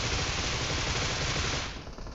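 Rapid automatic Groza rifle fire in the mobile shooter PUBG Mobile, a dense, loud, continuous burst that tapers slightly at the end, with no talk over it.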